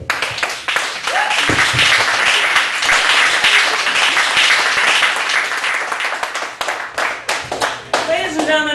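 Audience applause and clapping from a crowd at a live show, dense and sustained for several seconds before tapering off, with a few voices and cheers mixed in.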